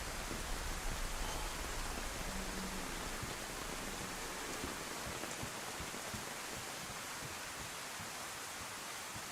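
Steady, dense rain falls in the survival video game DayZ, a continuous broadband hiss that stays even and fairly loud throughout with no voices over it.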